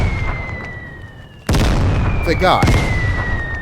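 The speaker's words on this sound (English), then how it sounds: "Preemptively drop a mortar strike right there." A mortar strike explodes in the video game Vigor: a sudden loud blast hits mid-clip and a sustained rumbling roar follows, with a brief voice speaking over it.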